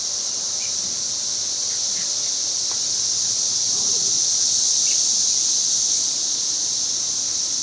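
Cicadas sing in a home garden, a loud, unbroken high-pitched buzzing drone that holds evenly throughout, with faint scattered sounds beneath it.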